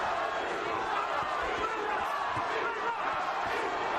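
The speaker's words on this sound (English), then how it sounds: "The crowd trying to urge Tapia on with chants of Johnny" Boxing arena crowd during the Paulie Ayala vs Johnny Tapia rematch, chanting for Tapia, a dense continuous roar of many voices swelling steadily throughout, loud and unbroken.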